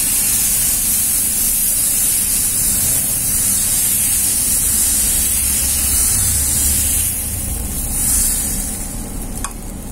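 Tapioca dosa batter sizzling on a hot dosa plate, a loud, close, continuous hissing fry with steady crackle and no talk.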